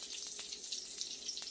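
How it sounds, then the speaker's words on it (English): Boiled potatoes being drained into a kitchen sink, a steady rushing pour of water with faint splashes running continuously throughout at close range. "I need to drain these puppies and then mash them up"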